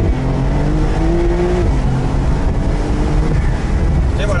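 A convertible car pulls hard from 20 to 80 km/h on a short straight, its engine note climbing steadily in a loud, close, continuous drone with wind rush, then a brief shift near the end.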